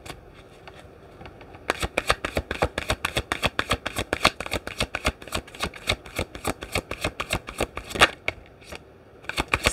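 Tarot cards being shuffled over about eight seconds of dense, rapid riffling clicks, close and loud, with no speech, after a brief quiet start.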